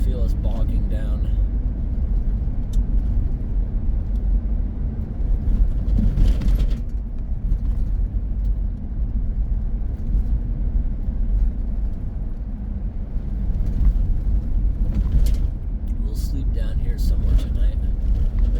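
Car labouring along a soft, snowy wilderness road as it bogs down, a continuous low engine and tyre rumble with a few brief bumps and clatters, heard close from inside.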